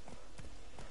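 Horse hooves clip-clopping in The Witcher 3: Wild Hunt, a few close, evenly spaced hoof thuds over a steady game ambience, with no talk over them.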